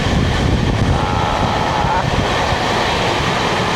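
A steady, loud roar of the 13125 Kolkata–Sairang Express running at high speed through hill country, a continuous rushing wheel and wind noise that holds its level throughout with no clear voices.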